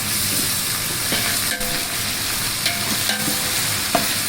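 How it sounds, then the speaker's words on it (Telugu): Ginger garlic paste frying in hot oil for jackfruit biryani, a loud, steady sizzle with faint stirring scrapes and a few soft clicks, close up and continuous without any voices. "అన్నీ వేగిపోయిన తర్వాత అల్లం వెల్లుల్లి నేను ఒక నాలుగైదు చెంచాలు వేసుకుంటున్నాను"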